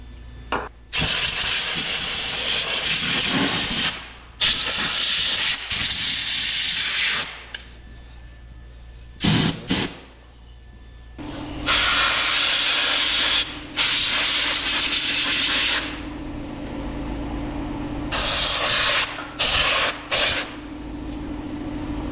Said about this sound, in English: grab some degreaser and let's put it right on that side of that valve cover right there